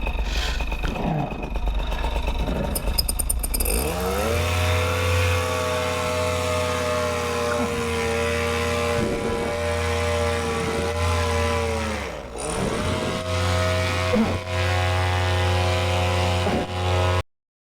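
A paramotor engine drones loud and close through a launch and lift-off, holding a steady steady pitch after a brief rise, with small dips and swells in throttle along the way and a sudden cut at the end.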